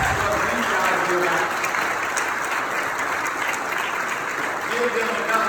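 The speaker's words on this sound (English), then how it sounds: "Give them a round of applause." A congregation applauds young fraternity men at an MLK commemorative service, steady sustained clapping filling the hall at close range for the whole stretch, with scattered voices mixed in.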